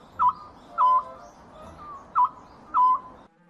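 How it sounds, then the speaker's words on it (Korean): Short, clear owl calls repeat four times at irregular spacing, each a brief hollow note over a quiet, faintly noisy background. "소쩍새 울음소리가 들려왔다."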